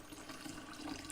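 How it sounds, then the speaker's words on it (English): Hot water pours into a bowl in a quiet kitchen while biscuits are being baked, giving a soft, steady, continuous trickling wash heard up close. "what I'm doing here is pouring some hot water and getting a bowl to cream the ingredients"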